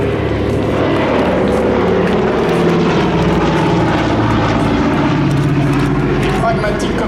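A Douglas DC-3 propeller aircraft flies past at an international seaplane gathering in Biscarrosse, its steady loud engine drone filling the whole stretch with a voice talking over it.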